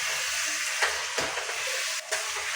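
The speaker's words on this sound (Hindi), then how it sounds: "तो प्याज और टमाटर की सब्जी बना रही है" Onion and tomato curry frying in a pan at home, giving a steady close sizzle with a few brief stirring scrapes and clinks, no voices.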